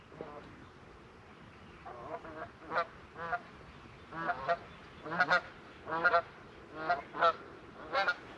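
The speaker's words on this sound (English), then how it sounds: "Now, here come the geese." A flock of geese honks repeatedly as they come in to land at a farm, loud, overlapping calls arriving in bursts that grow more frequent, over a steady outdoor background.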